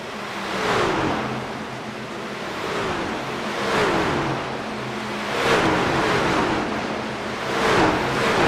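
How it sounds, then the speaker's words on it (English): A pack of racing trucks running close together on the oval at Homestead in iRacing, engines droning steadily with rhythmic swells as trucks pass, loud and continuous with no talk. "And there are a lot of trucks really close."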